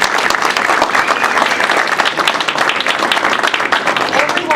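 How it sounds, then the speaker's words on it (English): An audience at a GOP leadership forum applauds steadily, with dense, even clapping that holds at full volume for several seconds and never lets up. "Everybody give them a round of applause."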